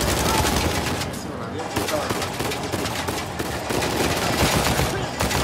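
Rapid, continuous automatic gunfire rattles through a firefight with police in the action game Uncharted 4, loud and dense for the whole stretch, with a brief spoken voice over it.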